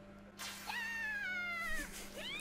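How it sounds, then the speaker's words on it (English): A single drawn-out, wavering cat meow rings out clearly close by, followed by a second rising call at the end, heard alone over a faint steady hum. "There's a cat."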